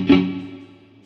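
A single electric guitar chord rings out through a Laney LV300 amplifier with effects, struck loud and close, then sustaining and slowly fading with a distorted, reverberant tail.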